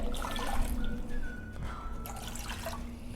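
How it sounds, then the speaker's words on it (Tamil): Water is poured into sugar in a pan for syrup, a soft, steady liquid splash with a few drippy gurgles, close and moderately quiet, no talking. "2 cups water ஆட் பண்ணிடுறேன்."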